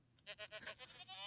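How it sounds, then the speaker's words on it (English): Screaming goats in a Minecraft-style survival game bleat in a rapid series of loud, harsh cries, several overlapping bursts in quick succession. "some screaming goats"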